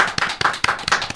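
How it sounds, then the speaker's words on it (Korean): Studio audience clapping to welcome two guests on a Korean talk show, several loud rhythmic hand claps close by, brief, with no speech. "큰 박수로 환영해 주십시오"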